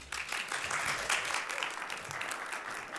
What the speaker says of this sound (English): Can we give a very warm round of applause for Bex?